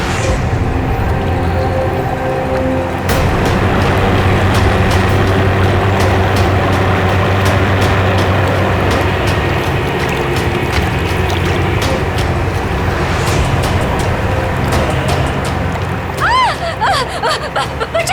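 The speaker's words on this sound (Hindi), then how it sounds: "ये आवाज कहाँ से आ रही है? शायद कोई जहाज होगा।" A ship's engine rumbles steadily at night, a loud mechanical drone with rattling and clanking throughout and occasional voices.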